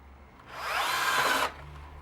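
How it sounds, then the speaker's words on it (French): A drill-driver fitted with a small bit bores a pilot hole in PVC pipe. One whining burst lasts about a second, close and clear, with no talk over it. "je prends ma visseuse sur laquelle je mets"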